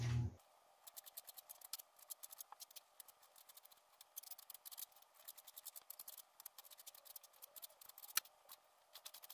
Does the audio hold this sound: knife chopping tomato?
yes